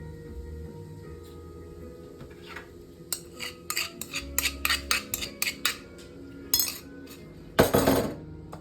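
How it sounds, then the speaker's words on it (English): Fork scraping and clinking in a bowl while mashing four egg whites and one yolk, a quick run of sharp metallic taps in bursts, close and clear, with a louder clatter near the end. "here we'll just use the fork to kind of get it mashed up"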